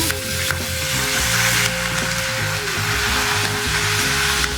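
Hot oil sizzles and crackles loudly and continuously, with a few sharp pops as curry leaves hit the pan and a spoon stirs.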